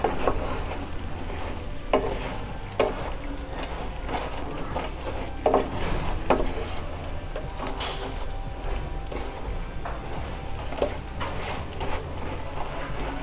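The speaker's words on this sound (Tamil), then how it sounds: "எல்லா இடத்துலையும் இந்த முறுக்கோட எல்லா இடத்துலையும் படுற மாதிரி நல்லா கலந்து விடுங்க" Fried murukku is stirred in a pan to coat it in sugar syrup, making repeated close scraping and rustling sounds with occasional sharper knocks of the spoon, steady for the whole stretch.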